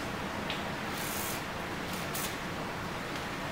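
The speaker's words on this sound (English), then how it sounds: "insert the straw into the back of it here, and then turn away because we don't want to get that in our eye, and then spray" Aerosol cleaner sprayed through a straw into a motorcycle carburetor on a Yamaha YZ250F, a steady close hiss with a few brief louder bursts.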